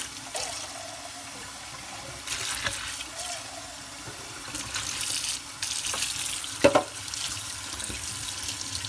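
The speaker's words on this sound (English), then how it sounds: "Rinse them good." Tap water runs steadily while canned black beans are rinsed at a kitchen sink, a continuous moderate wash with brief splashy surges and a sharp clatter near the end, no talking.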